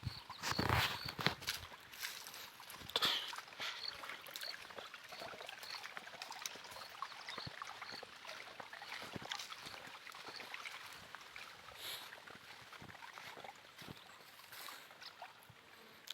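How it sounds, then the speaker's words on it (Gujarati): Water flowing along a long irrigation channel through a peanut field, giving a steady, soft outdoor rush and trickle. A few louder rustling knocks come near the start. "આ પાણી એ રીતે હાલ્યું જાય છે"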